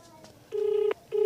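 Touch-tone telephone dialing while calling a police superintendent: two clear, loud, steady keypad beeps, each about half a second, with brief faint clicks and background sound before them.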